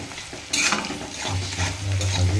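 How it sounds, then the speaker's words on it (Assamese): Whole cumin seeds fry in hot oil in a pan, giving a steady sizzle while a spoon stirs and scrapes through them, close and moderately loud. "এনেকৈ ভাজিয়ে আছোঁ।"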